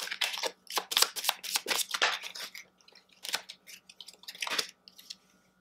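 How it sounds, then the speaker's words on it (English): Cards for the board game Cartographers being shuffled by hand, a run of crisp riffling bursts and flicks close up, pausing briefly then resuming, with no talk. "we're going to shuffle up and we're going to put this last ambush card in"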